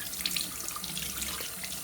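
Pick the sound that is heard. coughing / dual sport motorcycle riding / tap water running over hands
tap water running over hands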